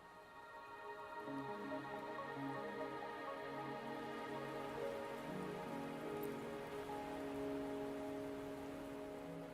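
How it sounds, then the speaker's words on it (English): Steady rain patters across surfaces in the video game Wuthering Waves, a dense, quiet hiss that runs unbroken under sustained soft musical tones. "Are you trapped here by the rain?"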